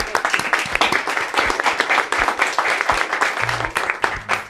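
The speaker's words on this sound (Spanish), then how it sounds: "para quienes pido un aplauso." An audience at a Colombian film event applauds steadily and loudly, many hands clapping in a continuous, fairly close wash that holds throughout.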